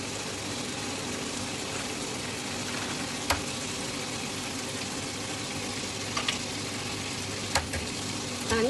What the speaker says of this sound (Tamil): நான் இங்கே இதில் முட்டையை உடச்சி வீட்டை போடுறேன்.